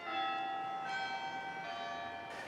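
Carillon bells at Grace Cathedral ringing, several clear bell tones sounding in sequence with long overlapping resonance, moderately distant and alone without talk.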